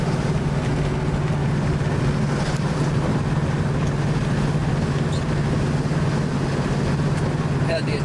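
A 1967 Chevrolet Camaro drives along with a steady, droning engine and road hum from inside the cabin. The sound is constant and moderately loud, with no talk over it.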